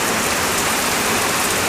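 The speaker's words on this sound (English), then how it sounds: "I'm going to step out here in the rain and see what happens" Steady rain falls outside on a dock, a dense, even hiss of drops with no breaks or other sounds.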